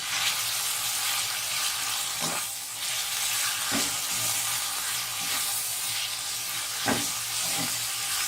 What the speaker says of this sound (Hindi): अब मैं इसमें हरी मिर्ची डाल के भी थोड़ा सा भूनूंगी